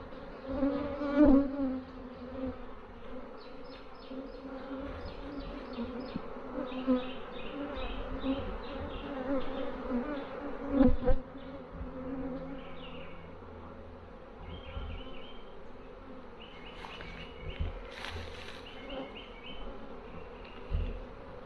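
Honeybees droning steadily around a newly installed nuc hive, a continuous close buzz with individual bees passing nearer and fading, no talking.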